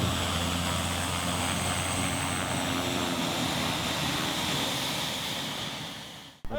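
A small propeller airplane idling on the ground after landing during a bear hunting trip in a remote northern area, a steady droning engine hum with a low tonal buzz that cuts off abruptly at the end.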